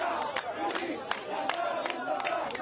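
Hundreds of revolutionaries packed outside the walls of the Mubarak trial compound in Egypt, watching on a huge outdoor screen, make a continuous roar of shouting and chanting, with sharp bursts of cries and whistles rising above it.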